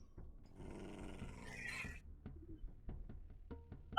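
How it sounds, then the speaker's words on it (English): A dog in the TerraFirmaCraft Minecraft game growls in a rough, rising snarl for about two seconds, then falls quiet, leaving soft scattered clicks and taps. "I got this noisy ass dog that for some reason is constantly pissed off"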